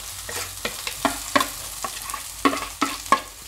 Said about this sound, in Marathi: आता हा चिरलेला कांदा आपण यामध्ये टाकणार आहोत.